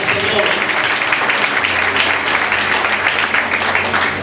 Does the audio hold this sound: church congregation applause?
yes